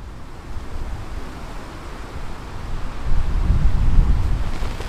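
Strong wind buffets a Durston X-Mid 2P tent through a very windy night, a steady low roar with gusts that swell louder toward the end, no voices.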